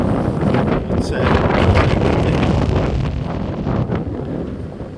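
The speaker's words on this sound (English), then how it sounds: "Very, very windy. It's a warm wind." Strong warm wind buffets the microphone at a beach on Boa Vista, Cape Verde, a steady loud roar with gusty swells and rustling throughout, fading slightly toward the end.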